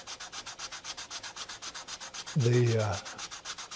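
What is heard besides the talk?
hand sanding wood with a sanding block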